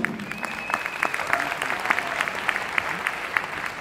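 Audience claps through a crowded event hall, a steady wash of many hands with scattered sharper claps standing out, moderately loud and continuous with no talk over it.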